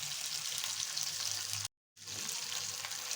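Chili-coated tilapia fries in a little oil in a pan, a steady moderate hiss that cuts to silence for a brief moment before resuming.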